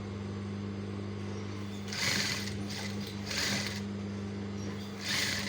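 A sewing machine stitches cufflinks in short mechanical bursts of rapid clatter over a steady low electrical hum, with roughly four separate runs.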